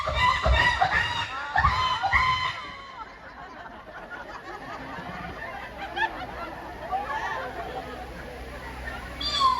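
A preacher's voice imitates a hen's noisy, irregular clucking at an Isra Mi'raj sermon: a string of choppy, squawking bursts over the first few seconds, then an audience's murmuring chatter and laughter carries on underneath.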